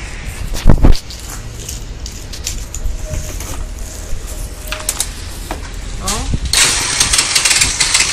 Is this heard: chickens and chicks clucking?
no